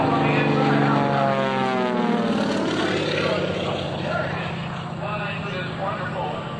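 Golden age air racing plane powered by a Pratt & Whitney 500 horsepower engine drones loudly overhead at an air show, a steady propeller roar that shifts in pitch as it passes, with an announcer talking over it.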